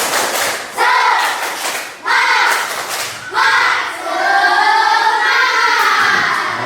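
A classroom of students doing a rhythmic spirit clap with loud group chanting, in three or four bursts of claps and shouted voices that rise and fall together.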